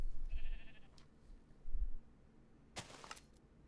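A Minecraft sheep on a survival wool farm bleats several times in short, fairly quiet calls with game noises between, and no talk.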